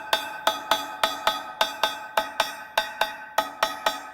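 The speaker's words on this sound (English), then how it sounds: "So I'm just going to tap it down so that they're flat." A hammer taps dimples flat on sheet metal for a BBQ burger flipper. Thirteen or so ringing metallic strikes land at a steady pace of about three per second, close and clear, with no talk.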